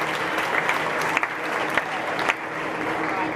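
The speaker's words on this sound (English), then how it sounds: "please give the Philip Fry family a round of applause for that" Audience applause honouring a donating family at a county Supreme Showmanship livestock event, steady dense clapping throughout with a few sharper claps standing out.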